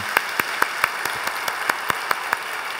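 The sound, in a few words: church congregation applauding in encouragement and blessing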